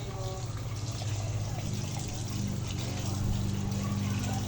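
Water runs steadily from a tap while sweet potato leaves are washed, a continuous close trickle and splash holding at a moderate level throughout.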